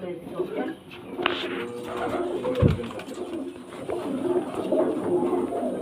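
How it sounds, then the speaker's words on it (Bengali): Many pigeons, young birds among them, kept for sale at a home, coo in a continuous low, throaty chorus nearby, while a person's voice is heard faintly through the cooing. "দেখুন পায়রা কোয়ালিটি দেখুন, প্রচুর পায়রা।"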